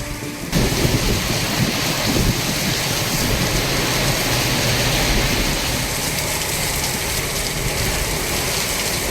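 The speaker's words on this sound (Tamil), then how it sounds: "நெல்லை மாவட்டம் அம்பாசமுத்திரம் சுற்றுவட்டார பகுதிகளில் இடியுடன் கூடிய கனமழை." Heavy rain with thunder in the Ambasamudram area of Tirunelveli district, a loud steady roar of downpour beginning abruptly and continuing throughout, with deep rumbles beneath it and no voices.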